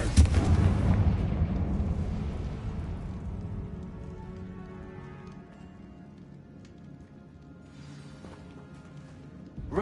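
A Confringo spell blast in the Hogwarts Legacy video game bursts loudly at the start, then a rumbling, crackling decay slowly fades over several seconds before a faint new swell near the end.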